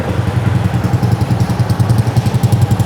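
A modified Lifan KP150 motorcycle with a freshly restored engine runs loud and close, its throttle pulsing in a rapid rhythmic rev with mechanical clatter.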